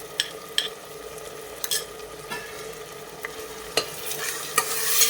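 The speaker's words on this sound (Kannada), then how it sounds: "ಚೆಂದ ಫ್ರೈ ಮಾಡ್ಕೊಳ್ಳೋಣ" Onion and spice paste frying in a pan for chicken biryani, a steady sizzle broken by repeated scraping strokes of a spoon stirring, the hiss growing louder toward the end.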